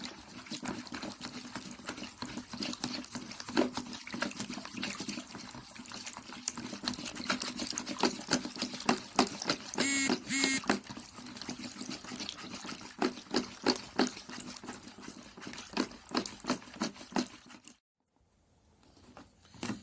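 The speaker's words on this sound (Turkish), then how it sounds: "güzelce çırpalım" Batter for Turkish burma dessert is whisked briskly in a bowl, giving a rapid, irregular run of close wet clicks and swishes that stops abruptly near the end.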